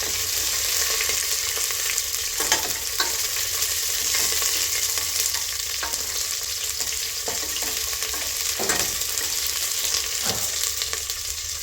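Chopped onion and green chillies fry in oil for tomato bath, giving a loud, steady sizzle that runs without a break, with occasional stirring clicks and no talk.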